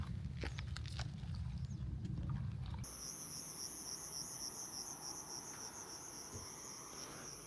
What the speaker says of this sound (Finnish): Sirkat soittaa.